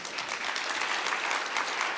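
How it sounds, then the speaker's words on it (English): An audience at an educational talk on math outcomes gives steady, dense applause, many hands clapping together at moderate volume, no voices. "Let's give them a round of applause."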